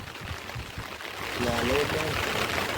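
Water drains out of a tank being cleaned during a downpour, a steady pouring rush that grows fuller midway, with a voice faintly present beneath it.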